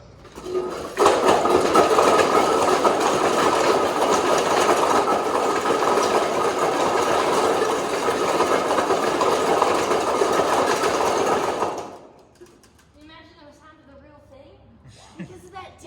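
A loud, steady mechanical roar with rapid rattling and clanking from a model rock crusher in a mill runs for about eleven seconds, then stops abruptly, leaving quieter speech.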